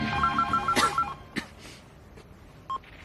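A mobile phone speed-dials home: a rapid run of keypad dialing tones plays first, followed by a ring or two and a short electronic beep, close and clear with no talk.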